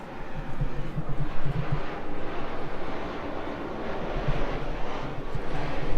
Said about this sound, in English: airplane again.